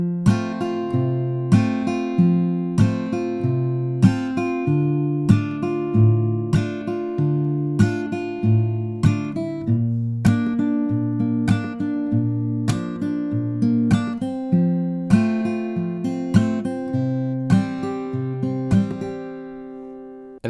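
Fingerpicked acoustic guitar works through the verse of a song, a steady picking pattern with regular plucked attacks over ringing chords, close and alone with no talking.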